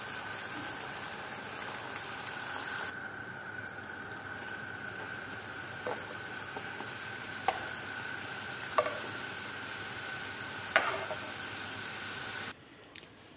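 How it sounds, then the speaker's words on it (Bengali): Puris frying in hot oil: a steady, close sizzle and crackle that runs throughout, with a few sharp clinks as they are turned or lifted. "এইভাবে সবগুলো এক এক করে আমি ভেজে নিচ্ছি দর্শক"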